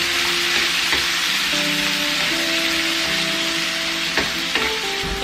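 Chopped tomatoes frying in a pan for sarciado tilapia, a loud steady sizzle with crackling hiss throughout and a few scrapes of stirring, with no talking.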